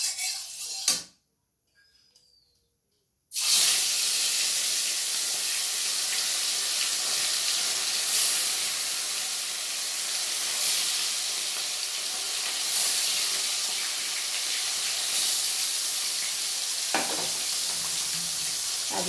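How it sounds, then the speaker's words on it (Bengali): Fish fries in hot oil in a kadai, a loud, dense, continuous sizzle close up. It breaks off briefly near the start, then resumes strongly and holds steady with no voices. "মাছগুলো ভেজে নেব"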